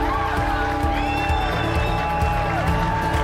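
A large crowd at an outdoor rally cheers, whoops and applauds continuously, with a loud, dense roar close around.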